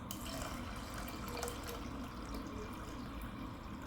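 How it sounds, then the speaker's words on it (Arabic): Water poured from a vessel onto lentils in a pot for lentil soup, a steady continuous splashing pour with no break, close and fairly loud, with no voices over it. "نضيف المي على العدس"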